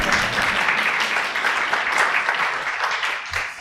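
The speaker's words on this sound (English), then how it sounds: "And feel free to clap those who wanted to clap." Applause from an audience at a county board of supervisors meeting, a steady dense patter of many hands clapping throughout, moderately loud and fairly near, with no speech over it.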